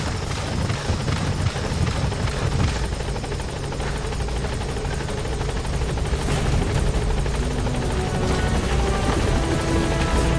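Support helicopter arriving in Metal Gear Solid V, a loud, steady rotor and engine roar that fills the whole clip, mixed with bursts of in-game gunfire and battlefield noise.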